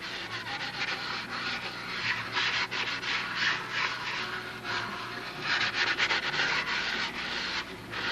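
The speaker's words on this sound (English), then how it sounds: "We'll give that a light sanding." Steady rasping strokes of sandpaper rubbing over a surface, a continuous scratchy back-and-forth at close range with no talking.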